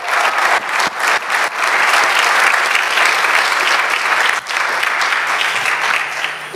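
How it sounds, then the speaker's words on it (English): Forum audience gives a final round of applause for a group of innovators, loud and close, sustained clapping with a few brief dips before surging again. "Can I ask for one last final applause for the whole group and these 10 innovations,"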